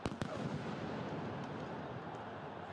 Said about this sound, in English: Police fired smoke bombs in a bid to try and clear the pitch.